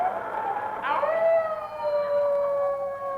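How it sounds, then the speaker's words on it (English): A winter blizzard in the far north, heard as a long wavering howl that rises and then holds steady at moderate loudness, an eerie whistling wail much like a wolf's cry. "Paul, that's a blizzard of howling outside."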